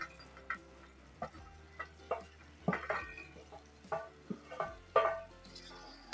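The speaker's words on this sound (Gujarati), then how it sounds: "હવે આપણે એની અંદર જે આ ટીંડોરા છે ને કોટ કરેલા એ બધાને અંદર નાખી દઈશું" Coated ivy gourd (tindora) pieces tumble into spiced masala in a pan, giving a soft sizzle with several sharp scrapes and knocks of a spoon stirring, close by and without talk.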